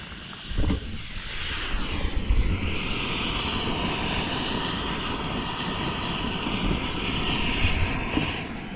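MSR XGK EX camping stove burning at full output, a loud, steady jet-like roar that fills the whole stretch with slowly shifting pitch and no voices over it.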